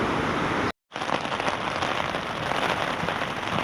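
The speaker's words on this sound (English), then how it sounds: "I arrived back in my tent just as the first drops of rain arrived" Steady rain patters on a tent pitched beside a hedge, a dense close hiss of drops broken by a brief moment of silence before resuming.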